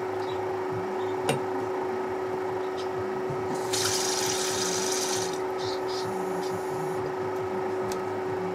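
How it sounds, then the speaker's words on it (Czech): Water is added to parasol mushrooms cooking in a pan with caraway, making a steady pouring and hissing wash that swells midway, with steady background hum. "Trošinku si to podlejeme vodou."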